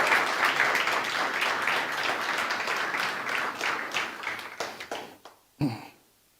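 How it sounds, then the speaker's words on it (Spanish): A congregation at a church service applauds, dense sustained clapping that fades out over several seconds, followed by a single sharp thud near the end. "Dale un aplauso"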